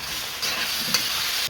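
Chunky onions and fresh green chilies sizzle as they stir-fry in a pan for an Indian restaurant-style chicken jalfrezi, a steady close frying hiss that swells louder partway through, with a brief stirring scrape.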